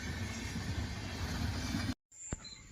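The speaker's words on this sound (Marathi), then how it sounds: "नागरकॉइल मुंबई सुपरफास्ट एक्सप्रेस खूप चांगला नजारा सेंट्रल रेल्वेचा बघायला मिळतोय" The Nagercoil–Mumbai Superfast Express on Central Railway roars past with a steady rushing rumble, then cuts off abruptly, followed by a brief quiet stretch with a short tone.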